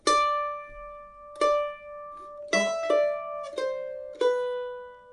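Mandolin picking the B part of the Scottish tune Marie's Wedding at a beginner pace, a handful of bright, ringing plucked notes spaced unevenly, close and clear with no voice over them.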